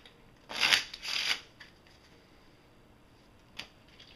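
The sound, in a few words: shuffling a deck of playing cards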